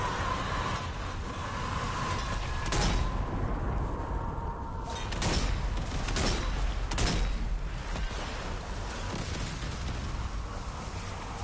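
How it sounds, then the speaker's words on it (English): Mortar fire and explosions in the zombie shooter Zombie Army 4: Dead War, a series of heavy blasts and thuds spaced over a continuous rumbling battlefield bed, fairly loud and near. "Mortars incoming."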